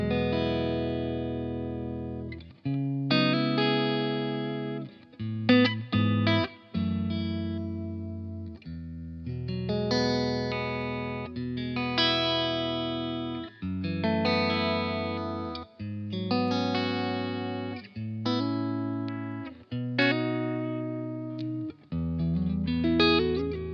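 Electric guitar played clean through a Fender Hot Rod DeVille amp with no pedals or effects loop: chimey strummed chords and single notes ring out in separate phrases with short gaps, loud and close, alone.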